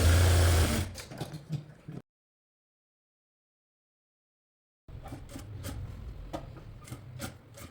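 A sewing machine runs in two short bursts while stitching the side seams of a baby frock, loud at first, then a gap of silence before it starts again with fainter whirring.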